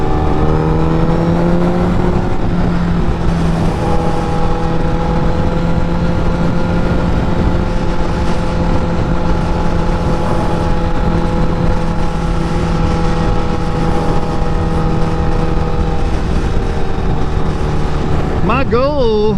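A motorcycle engine drones at steady speed with a constant hum and wind rush, revving briefly near the end.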